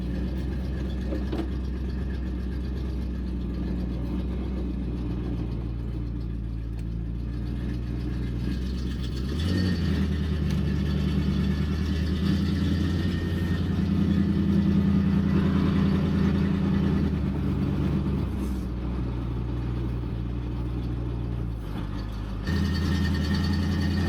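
A 1958 Cadillac's engine runs steadily while driving down the road, a low continuous rumble with a slight rise in revs midway and a shift near the end, no talk over it.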